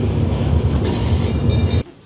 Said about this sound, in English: Oh, an enjoyable ride round there on the train.